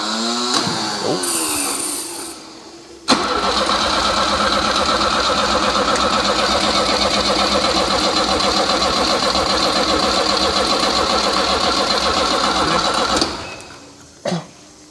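An abandoned Volvo P1800 sports car, parked for 25 years, cranks with a steady loud whirring starter for about ten seconds, with a brief churn before and a short burst afterward, but it does not catch.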